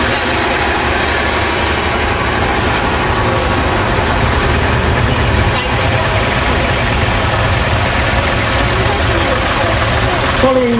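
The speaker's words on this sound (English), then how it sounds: "big single cylinder diesel engine" A loud, steady single-cylinder diesel engine on a Field Marshall tractor chugs continuously with a low, throbbing rumble, with voices at times over it.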